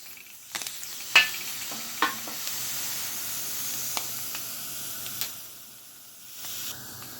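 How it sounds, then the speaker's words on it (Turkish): Fish peppers roast on a hot pan and are turned slowly, giving a soft, steady sizzle. Scattered sharp crackles and pops break through it. "Böyle yavaş yavaş çevirerek güzel bir şekilde közleyeceğiz biberlerimizi. Sesleri duyuyorsunuz."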